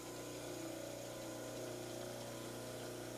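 A model trimmer grinds the side of an orthodontic plaster model with a steady, continuous whirring and grinding hum, close and sustained throughout with no talking.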